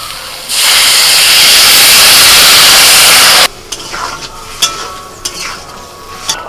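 A vegetable curry of potatoes with garlic and ginger paste hisses loudly and steadily in a pan for about three seconds, then cuts off, leaving quiet bubbling and a few light clinks of stirring.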